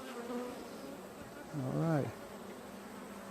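Honeybees buzz softly in a steady low drone during a hive inspection, while a person speaks briefly nearby.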